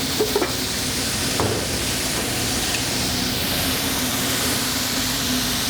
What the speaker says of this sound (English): Oh yeah, I'm getting a nice fry in there.